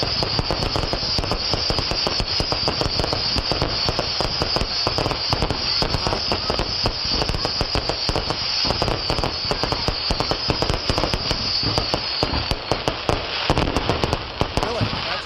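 Dense, continuous crackling and popping of Fourth of July fireworks goes on throughout, a busy stream of sharp bangs over a hissing background.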